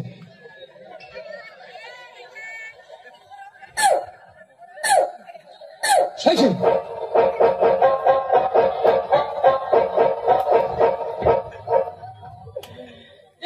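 Several sharp barks ring out, then a dense stretch of loud, overlapping voices and rhythmic clatter, with the dog mostly buried under the noise.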